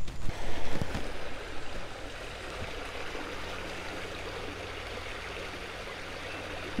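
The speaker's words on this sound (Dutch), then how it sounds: "Daar is het beekje." A small brook flows steadily in woodland, a soft continuous trickling wash under a few faint bumps near the start, with no voices.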